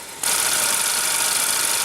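A 2015 Honda Accord Coupe's 2.4-liter inline four-cylinder engine runs at a steady idle, a dense, even mechanical hum that begins abruptly and holds without variation, close and fairly loud.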